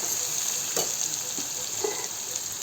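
Onions fry in a pan for egg biryani, giving a steady, loud, close sizzle with a few faint stirring scrapes and pops breaking through.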